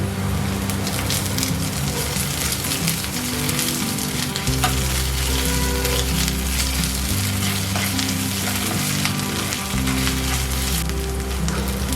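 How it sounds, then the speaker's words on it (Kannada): Ginger garlic paste frying in hot oil in a pan, a continuous loud sizzle with an occasional stir, no talking. "ಈಗ ಶುಂಠಿ ಬೆಳ್ಳುಳ್ಳಿ ಪೇಸ್ಟ್ ಹಸಿ ಸ್ಮೆಲ್ ಹೋಗಲಿ ಅಲ್ಲಿವರೆಗೆ ಸ್ವಲ್ಪ ಫ್ರೈ ಮಾಡ್ತೀನಿ"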